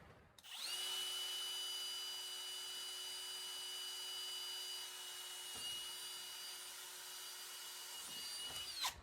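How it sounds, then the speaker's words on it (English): A power drill bores a hole into a well house lattice, whining at a steady, sustained high pitch for about eight seconds after a quick spin-up, then winding down at the end; quiet and close, with no talking. "So I think I'll drill a hole right about here."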